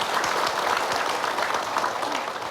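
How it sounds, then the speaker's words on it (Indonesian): Studio audience at a religious talk show applauding warmly, dense steady clapping from many hands throughout, with no pauses. "Tepuk tangan untuk Pak Ustadz Asep Hidayat."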